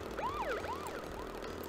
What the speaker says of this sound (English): Oh, get out of my face, police car.